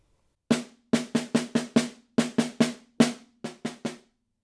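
Snare drum alone up close, played with right-hand lead sticking: a quick run of evenly spaced crisp strokes, a brief gap, then more strokes with the last few noticeably softer.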